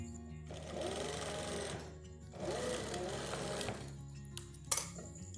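An electric sewing machine stitches a kurti's side fitting seam in two sustained close runs of rapid whirring, with a pause between and a few clicks and knocks of handling at the end.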